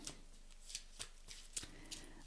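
Tarot cards shuffled by hand in a quiet room, a run of soft, papery riffles and slaps arriving in short irregular bursts at close range, with no voices over them.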